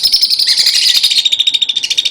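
Baby sun conures and a red-bellied parrot chirp at close range during hand feeding, a rapid run of high, shrill, repeated tweets with no pauses.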